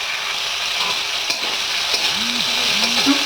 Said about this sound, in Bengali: তারপর চিংড়িগুলো ভালো করে ভেজে নেব